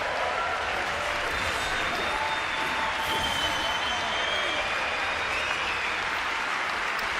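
Applause during a Trump address, as a dense, sustained crowd in a large hall keeps clapping loudly and evenly for the whole stretch, with some cheering mixed in.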